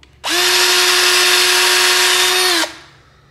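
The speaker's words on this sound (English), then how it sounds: "Drill a small hole." A power drill whirs steadily at high speed for about two and a half seconds, drilling a small hole while installing cordless blinds, starting and stopping abruptly, close and loud with no talking.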